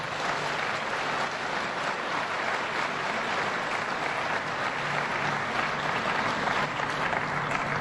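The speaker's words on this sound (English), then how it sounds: "let's give UB a round of applause" Sustained audience applause fills a hall during a State of the State address in Buffalo, steady and dense throughout with no break or speech over it.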